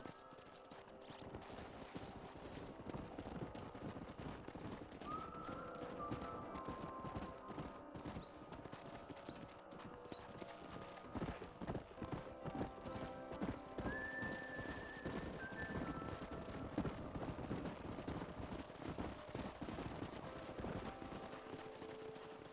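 Horses gallop and whinny in Red Dead Redemption 2, a dense, continuous clatter of hooves with high neighs rising above it several times, steady and loud throughout.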